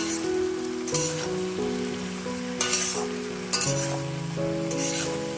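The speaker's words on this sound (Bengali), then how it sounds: "এরকম করে আমি চার পাঁচ মিনিট ভেজে নিয়ে আসছি" Jujube pickle fries in mustard oil, a continuous close crackling sizzle with occasional louder spatters, over a steady tonal hum that shifts pitch.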